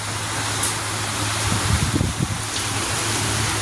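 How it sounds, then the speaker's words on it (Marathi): Rain falls steadily as a continuous broadband hiss, with a low hum and a few soft thumps in the background. "पाऊस पडतोय"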